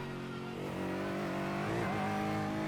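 An Aston Martin GT4 race car engine drones steadily from inside the cockpit in iRacing at Winton Raceway, its pitch climbing and dipping with shifts, a loud continuous game-style engine tone with no talk.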